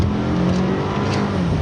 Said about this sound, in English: Just floor it